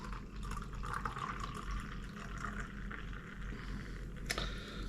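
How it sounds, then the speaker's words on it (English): Boon Kriek, a Belgian cherry beer, is poured hard into a glass, giving a steady splashing, foaming gush that runs for about five seconds at close range without any talk. "I'll just do a wee hard pour to see how fizzy that is."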